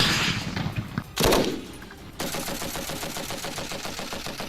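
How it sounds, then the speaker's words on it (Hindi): Gunfire at a Russian military training ground: bursts of rapid automatic shots, loud and fairly close, followed by a sustained rattling stream of fire with no voices. "जिसके बाद उन्हें बाकायदा मिसाइल और गोलियां चलाने की ट्रेनिंग दी गई"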